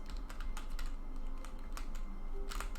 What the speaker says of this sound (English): If you click the E button, which is the interact key, sounds like you're typing.